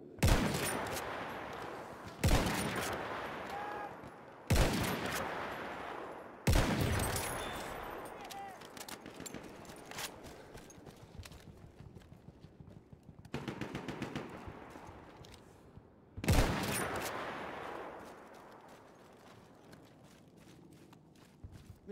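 An enemy machine gun fires in Battlefield 1 in several loud, heavy bursts separated by pauses, each ringing out and decaying over a rumbling battlefield with lighter rattling shots between.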